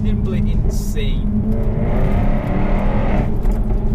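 A Jaguar F-Type R sports car with a supercharged 5-litre V8 roars loudly and close, its engine note rising and swelling over a few seconds in one continuous drive-by rush.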